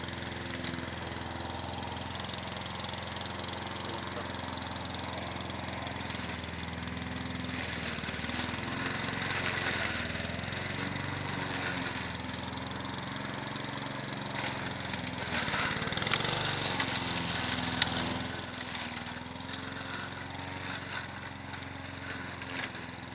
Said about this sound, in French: La tondeuse est vraiment un outil formidable pour broyer la plupart des déchets du jardin.